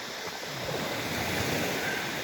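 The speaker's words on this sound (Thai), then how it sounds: "ฟังเสียงคลื่นเลย" A steady, broad roar of surf washing continuously onto a rocky tropical shore, close and loud, with a wind-swept hiss and no voices.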